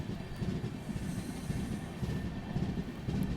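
Secunderabad Duronto Express running at speed on the Agra–Mathura section, a loud continuous rumble of wheels on rails heard from inside the coach with a rhythmic rattling clatter.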